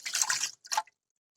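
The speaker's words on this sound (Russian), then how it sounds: "налью немного воды сюда" Water poured into a car's cold air intake pipe, two short splashing bursts close by, the first longer and the second brief, then quiet.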